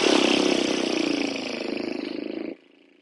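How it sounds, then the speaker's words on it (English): Lips flutter on a long exhale during yoga breathwork, a close, buzzing, engine-like brrr that holds steady for about two and a half seconds before cutting off into quiet. "flutter the lips"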